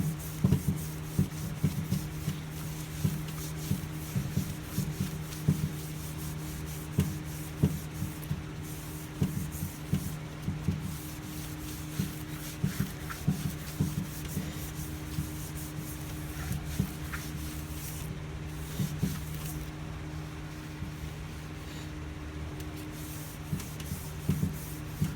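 Abrasive pad rubs denatured alcohol across a guitar body to strip the old finish down toward raw wood, giving steady soft scrubbing strokes with faint scraping texture, close and continuous, alone without talk.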